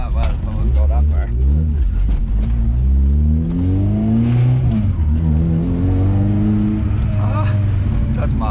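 Honda car with Skunk2 lower control arms and a new exhaust and muffler revving, a loud continuous engine drone rising and falling in pitch, with people talking over it throughout.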